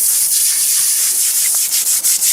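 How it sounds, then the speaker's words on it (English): Steady coarse scraping hiss of a scrub brush with water scrubbing fresh cement on a stone birdbath, continuous and close, with slight rhythmic strokes toward the end. "I'm just going to get a regular scrub brush and water, because the cement is still fresh"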